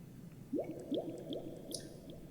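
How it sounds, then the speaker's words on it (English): Soft, watery bubble pops repeat in a gentle rhythm, each trailing into echoing repeats and a roomy reverb tail, quiet and alone. "we are just left with little delayed and reverb bubble here"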